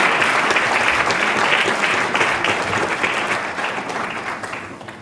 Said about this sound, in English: I think they deserve a really warm round of applause.